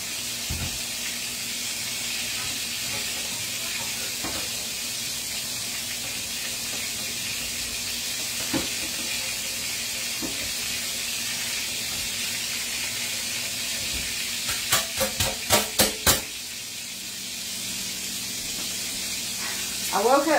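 Sausage sizzling in a frying pan makes a soft, steady hiss for the whole stretch, with occasional faint clicks and a short burst of rapid knocks or clatter partway through, and no one speaking.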